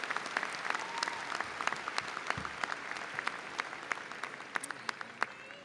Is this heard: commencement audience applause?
yes